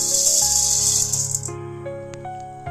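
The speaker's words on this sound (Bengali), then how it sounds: "এরপর আবার কড়াইতে দিয়ে নেব সয়াবিন সিড" Raw soybean seeds tumble into a hot wok (kadai) for dry roasting, a dense rattling patter of hard little beans over about a second and a half, then fading to scattered faint clicks and stillness, with no talking.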